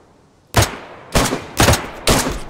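DayZ gunshots: four loud, sharp reports with short echoing tails, spaced roughly half a second apart after a brief quiet start, nearby and alone without speech.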